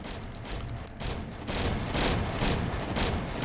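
Aircraft strafing gunfire in the WWII Online game comes as rapid, rattling bursts of shots that build in loudness, dense and continuous over a rumbling background.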